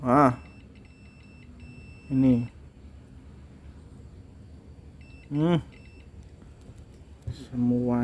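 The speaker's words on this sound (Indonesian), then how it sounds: "Ini kita pindah ke buzzer." A multimeter's continuity buzzer sounds while probing a shorted welding machine that trips its breaker, giving a few separate short electronic beeps at close range, with a voice speaking in between.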